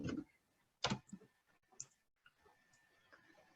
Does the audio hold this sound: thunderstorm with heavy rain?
no